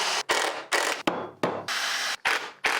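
A glued wooden dowel joint in a post is tightened with a clamp, giving repeated close ratcheting rasps and clicks in short bursts with brief gaps between them, with no voices.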